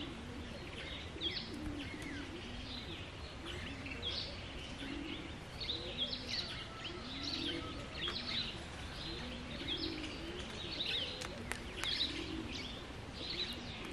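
Outdoor birdsong, with faint chirps and soft pigeon or dove cooing carrying on steadily in the background at low volume.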